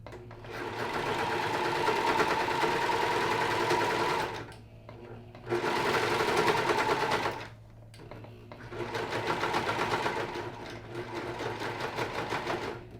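A sewing machine stitching while wearing Rick Owens KISS boots, running in three long bursts of steady rapid whirring with short pauses between, close and clear with no talk.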